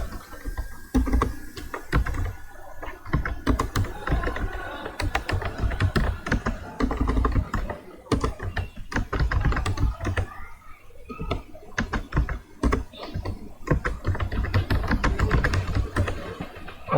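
Keys being typed on a computer keyboard while entering an unordered-list title in HTML code, a dense run of fast clicks and clacks at close range with no talk over them.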